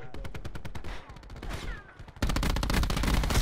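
Rapid gunfire crackles in a Call of Duty Black Ops 4 scrim match, first as steady bursts and then as a louder, denser barrage of automatic shots, loud and close, with faint voices underneath.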